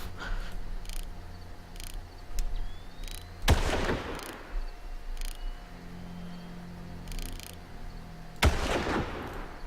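Two loud, sharp sniper rifle shots from the video game Far Cry ring out about five seconds apart, each with a short, booming tail over a steady ambient game background.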